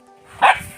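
A single short dog bark, close and fairly loud, rising out of a quiet background.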